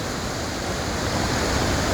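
Floodwater from a river rushes through a garden during the 2024 flood in Stronie Śląskie, Poland, producing a steady, loud, broadband roar with no pauses.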